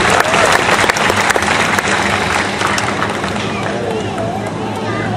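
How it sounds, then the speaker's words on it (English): An audience at a zoo crocodile show applauds loudly and continuously, a dense wash of clapping with crowd murmur over several seconds. "Give another round of applause."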